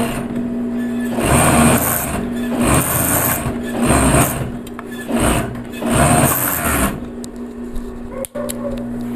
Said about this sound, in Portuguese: E vou continuar passando o elástico. Aqui eu levanto um pouquinho o calcador para ajudar.